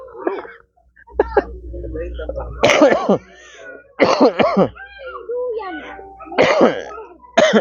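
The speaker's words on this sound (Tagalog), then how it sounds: "Yung host, inuubo." Several harsh, abrupt coughs from one nearby person, spaced across the stretch, with people talking in between.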